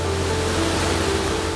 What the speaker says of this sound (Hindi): इस झरने को आवाज को सुन पा रहे हो मेरे दोस्तों?